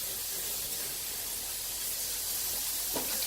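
Shrimp go into hot olive oil in a cast iron skillet, giving a faint, even sizzling hiss that continues alone without talk.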